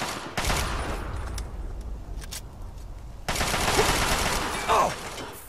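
Enemy gunfire in the video game Fallout 3 crackles in sustained rapid bursts, with a brief lull and then a louder stretch of shooting.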